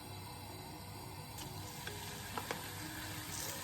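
Onions frying in a pan make a gentle continuous sizzle, fairly quiet and close, with a few light clicks and taps of a utensil toward the middle.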